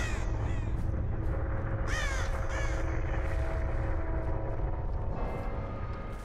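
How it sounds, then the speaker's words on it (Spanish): Crows cawing in the Dead by Daylight video game, several harsh caws in quick succession over a steady ambient rumble of the game's eerie map, fairly close and prominent, with no talking. "Voló un pájaro por aquí."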